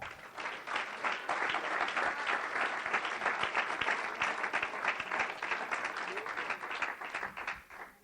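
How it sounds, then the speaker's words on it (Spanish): A church congregation claps together during a Spanish-language worship service, a sustained burst of many hands with a crisp, rapid texture, rising quickly and fading out near the end. "Denle un aplauso al Señor."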